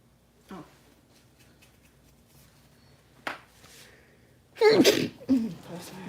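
A single sharp sneeze up close, followed by a short burst of noise, with quieter sounds and a faint earlier thud in a room during a nail-salon session.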